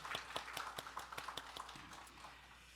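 A church congregation at Sunday worship gives a short burst of applause, a quick run of sharp claps at moderate distance that thins out and fades after about two seconds.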